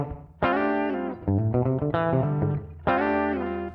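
Jazz guitar plays a tune through heavy effects including reverb, clear sustained chord phrases in a few bursts with no voices.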